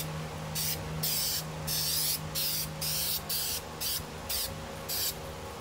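Plasti Dip sprayed from an aerosol can onto a Buell XB9SX tank cover, about a dozen short hissing bursts in an uneven rhythm, close and fairly quiet, with no talk.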